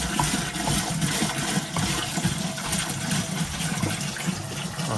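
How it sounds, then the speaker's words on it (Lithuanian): Water poured into a pipe fitted with a check valve aboard a boat under repair, a steady rushing, gurgling flow with a faint mechanical hum beneath. "Tai pilam vandenį."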